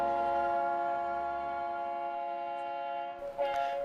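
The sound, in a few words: cog railway train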